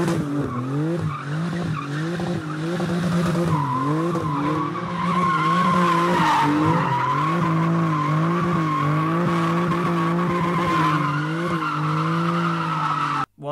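A Porsche GT2 RS sports car driven hard, its engine roaring loudly and steadily with shifting revs while the tires skid and squeal throughout, close and continuous.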